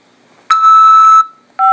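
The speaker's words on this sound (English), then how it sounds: "After the beep" Prison phone call system beep: a sharp electronic tone lasting under a second, followed by a second short tone starting moments later, loud and clean against silence.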